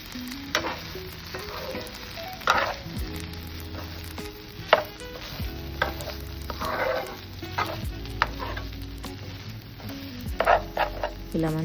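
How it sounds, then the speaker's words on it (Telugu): Cauliflower curry sizzles and fries steadily in a pan, with intermittent stirring scrapes and clinks of a spoon against the metal throughout, no talking. "ఇలా మంచిగా ఫ్రై అయిపోతుందండి."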